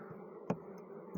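A steady, low insect buzz of many bees hums throughout, with a couple of brief louder bursts as bees pass close.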